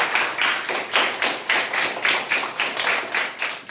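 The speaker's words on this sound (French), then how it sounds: "Bravo, mes élèves. Vous applaudissez." A small group of students applauds, a brisk rhythmic patter of clapping pulsing about twice a second, fairly close and steady for several seconds, with no voices.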